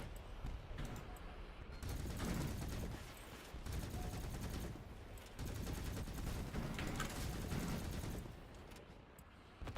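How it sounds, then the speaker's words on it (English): Gunfire in a video game comes as bursts of rapid shots in dense volleys separated by short pauses, loud and clattering throughout. "Fire off that shot just to get that reload going."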